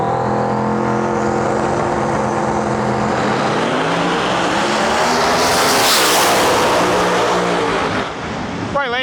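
A C7 Corvette pro mod drag car roars down the strip at an outlaw drag racing event, a loud sustained engine howl that swells and shifts pitch before trailing off near the end, with faint crowd and track ambience.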